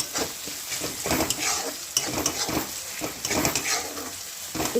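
Tomatoes being stirred in a pan for pav bhaji, with irregular scraping strokes of a spoon against the pan over a steady sizzle, close and moderately loud with no talking.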